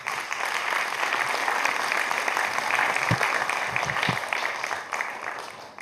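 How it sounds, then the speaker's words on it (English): An event-inauguration crowd at a talent show applauds the volunteers. The clapping is moderately loud and even, with a few dull low thumps partway through before it tapers slightly at the end. "So please give a round of applause to all those who helped."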